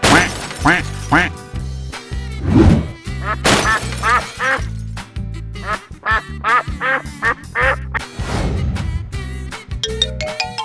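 Cartoon duck quacks come in repeated bursts over a busy, loud musical soundtrack, with a voice chanting along in imitation of the quacking.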